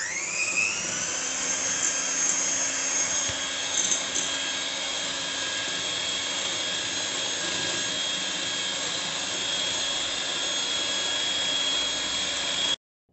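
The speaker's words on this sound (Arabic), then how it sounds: "غادي نكملو التطراب ونرجعو معاكم" An electric mixer whisks cake batter with a constant high-pitched whine and steady motor hum, close and loud for about thirteen seconds before cutting off abruptly, with no speech.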